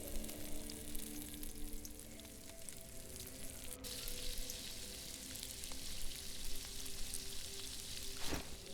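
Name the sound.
wolf steaks sizzling while cooking in the video game DayZ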